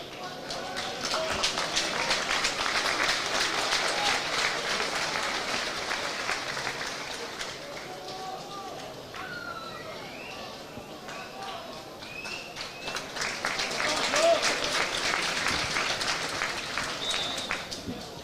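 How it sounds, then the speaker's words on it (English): A hurling crowd applauds substituted players leaving the field at a Wexford v Dublin minor championship match, with sustained clapping across the stand that swells again near the end while a commentator talks over it. "The crowd acknowledged them as they go off the field."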